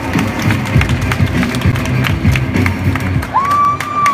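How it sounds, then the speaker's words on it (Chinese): An audience at a crime prevention carnival applauds and cheers in a continuous, loud wash of clapping and crowd noise, with a short whistle-like tone near the end. "掌声鼓励鼓励"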